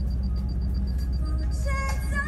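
A Toyota Land Cruiser LC70 HZJ77 with a 1HZ engine runs nearby, giving a steady, even low rumble. Faint ticking and brief higher-pitched noises appear toward the end.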